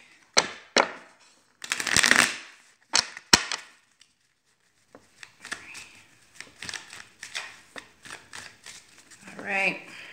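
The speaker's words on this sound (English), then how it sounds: "One more shuffle and we should be good." Tarot cards being shuffled by hand, heard as sharp riffling bursts and crisp snaps separated by pauses, then a looser run of softer flicks and taps, close and fairly loud with no talking.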